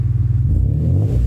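Exhaust of a 1999 Subaru Legacy with a swapped H6 engine and unequal length headers: a loud, steady, low rumbling burble held throughout at close range, with no voices.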